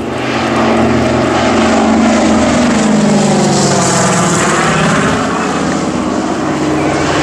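Twin-engine Grandmaster propeller aircraft flying past at the Old Warden airshow, a loud, sustained engine drone whose pitch sweeps downward as it passes, with a commentator's voice faintly underneath.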